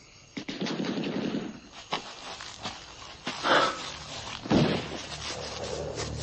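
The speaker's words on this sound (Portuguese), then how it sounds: "Está ouvindo? Metralhadora. Eu conheço o som." Bursts of machine gun fire in an action film, a few loud rapid volleys with sharp peaks standing out against a steady noisy background.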